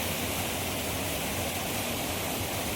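Rainwater rushing through a broken village dam, a loud, steady roar of flowing water with no break and no voices.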